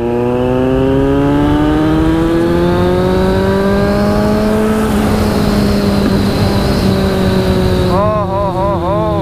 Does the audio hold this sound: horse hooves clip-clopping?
no